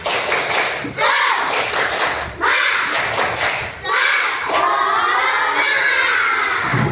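Children in a classroom clap out a rhythmic "tepuk semangat" chant, bursts of loud group clapping with shouted voices, close and energetic, pausing briefly between phrases.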